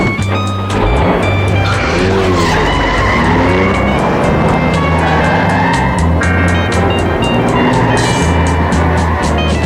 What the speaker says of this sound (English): the truck is already going too fast to jump off